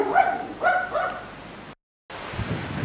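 Dogs bark in a castle courtyard, several close, loud yaps in quick succession, then a brief silence and a stretch of low outdoor noise.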